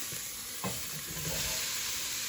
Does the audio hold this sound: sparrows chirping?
no